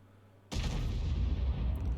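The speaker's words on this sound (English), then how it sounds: "Well, a Troyer started firing again" A tank destroyer in a tank video game fires a single shell: a sudden loud blast breaks out of near silence and rumbles on as a heavy, booming decay.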